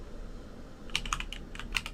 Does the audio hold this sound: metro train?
no